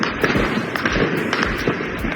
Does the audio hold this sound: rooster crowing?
no